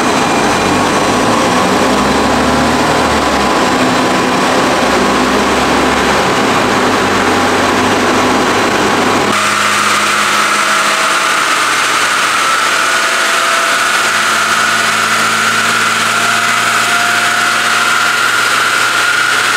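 A taxi car's engine idles and warms up with a steady, loud drone up close, its tone shifting partway through and then settling into an even hum.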